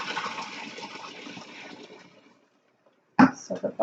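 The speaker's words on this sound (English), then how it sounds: "Another pot of boiling water. Put that right on top." A pot of boiling water pours into a bucket of cloths, a gushing splash that trails off into silence before a few sharp sloshes and knocks at the end.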